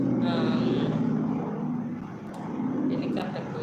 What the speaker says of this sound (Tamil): ஹெலிகாப்டர் போயிட்டுருக்குது